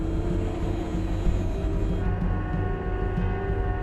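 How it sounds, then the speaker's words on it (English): The ship Faust's bow thrusters run at full power pushing her bow off the pier, a loud, steady low rumble and churning drone with a faint high whine that eases slightly partway through. "Faust's bow thrusters work overtime trying to drive her nose away from the pier."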